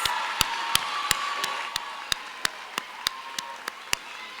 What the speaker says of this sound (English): Please give the kids a round of applause.